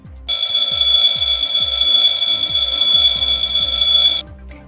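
A fire station's master alarm rings in a continuous loud, steady electronic tone for about four seconds, then cuts off, with a rhythmic series of low thumps beneath it.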